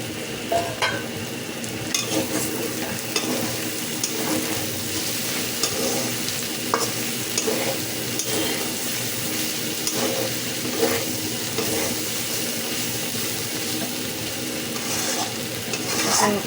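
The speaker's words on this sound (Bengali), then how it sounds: "দিয়ে দিচ্ছি মুরগি যে ভাজা ওই এটা, আর একটু আমি সামান্য ম্যাগি মশলা দিয়েছি" Chicken and vegetables stir-fried with Maggi masala, a steady close sizzle broken by the repeated scrape and clatter of stirring in the pan, without any talking.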